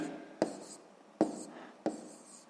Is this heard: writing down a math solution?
yes